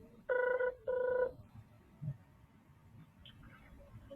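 Two electronic phone rings, each about half a second, in quick succession, then quiet with faint background noise.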